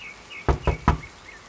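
Three quick, sharp knocks on a wooden door in a Hindi birds cartoon, close and evenly spaced, with faint chirping in the background.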